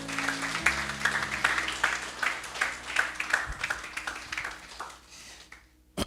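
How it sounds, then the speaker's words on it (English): A large audience claps in sustained applause at an AMA session honoring a colleague, dense and steady before thinning toward the end, with a brief voice or cheer mixed in. "I want you to give clapping ovation for my dear colleague and friend, Mr. Oluwaseyi Odekumaya."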